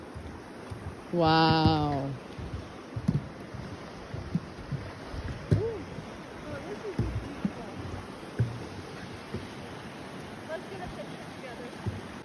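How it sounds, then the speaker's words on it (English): A mountain river flows steadily in the North Cascades, a broad continuous rush with wind buffeting the microphone and a voice briefly exclaiming over it. "Look at this water. We followed this water all the way down the mountain."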